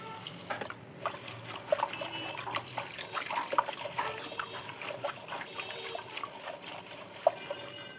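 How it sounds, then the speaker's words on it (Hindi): Leaves of a potted plant being rinsed under running water, a steady trickle and splatter with scattered drips and small splashes continuing throughout, close and fairly quiet with no talking. "तो आइए इसे धो लेते हैं"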